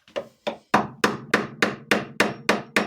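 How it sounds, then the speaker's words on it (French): Repeated sharp metallic hammer blows on an old screwdriver to loosen a part on a Peugeot 205 GTI, about nine strikes in a steady rhythm, close and loud, with no talking. "Je vais essayer de le frapper ici, en fait, comme ça, là, pour essayer de le dévisser"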